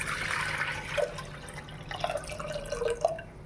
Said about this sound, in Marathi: त्यामध्ये एक तांब्या भरून पाणी घालत आहे